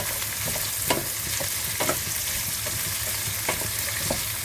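Fingerroot and kaffir lime leaves fry in hot oil for stir-fried prawns, a steady bright sizzle broken by a few sharp crackles and pops, with no talking.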